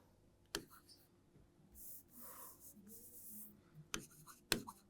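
Marker or chalk writing an answer on a classroom board, with a few sharp taps and a soft scratchy stroke in between, quiet and close, alone without talk.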